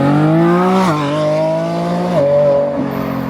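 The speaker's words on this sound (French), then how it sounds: "c'est vraiment le bruit du V12" Lamborghini Revuelto V12 engine accelerating hard, a loud high-pitched howl climbing through gear shifts that drop and rise the pitch, heard from outside with no talking.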